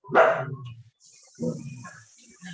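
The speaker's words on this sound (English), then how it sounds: "sorry for my dog's voice" A pet dog barks twice, two sharp loud barks about a second apart with harmonic tails, heard close up with a faint background tone between them and no talk.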